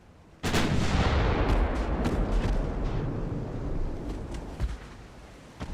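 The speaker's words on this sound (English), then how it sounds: "They're shooting back at us." Naval guns on warships fire in Ultimate Admiral: Dreadnoughts, a heavy close blast that rolls into a long rumbling decay, with further muffled shots and distant impacts following.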